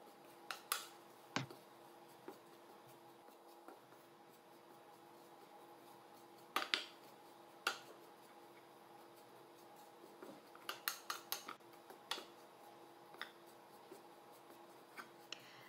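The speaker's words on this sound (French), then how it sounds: "je vais continuer de remuer constamment jusqu'à obtenir une couleur de poudre d'amande dorée" Golden almond powder is stirred constantly in a pan over heat, giving quiet scrapes and sparse sharp clicks of the utensil against the pan in an otherwise hushed kitchen.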